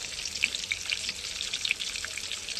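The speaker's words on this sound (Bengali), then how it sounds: "এবার ডিমটা ভাজা হতে থাক" An egg sizzles in hot oil in a home kitchen pan, a steady, crackling hiss with scattered sharp pops, close by and alone.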